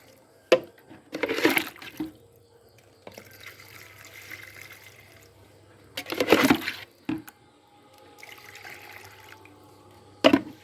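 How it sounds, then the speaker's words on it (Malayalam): Water poured into a water lily pot to fill it, arriving in three separate splashing bursts with quieter gurgling and a faint low hum between them. "ഇത് നിറയുന്ന രീതിയിൽ നമുക്ക് വെള്ളം ഒഴിക്കാം."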